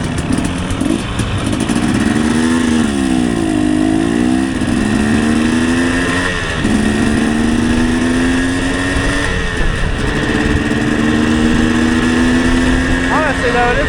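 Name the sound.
two-stroke motorcycle engine on the street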